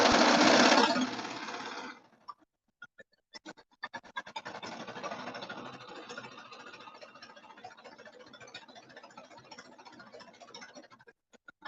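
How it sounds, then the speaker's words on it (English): A sewing machine stitching a seam on a color block hoodie after a burst of loud rustling, running in a fast, steady mechanical rattle up close, with no talking. "I'm just going to place this under here and begin sewing."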